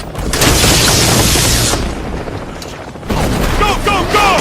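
Battle sound effects for a Gotham audio drama: a 60mm cannon booms amid rapid gunfire, with loud dense blasts and rattling bursts, a brief lull, then renewed crackling fire.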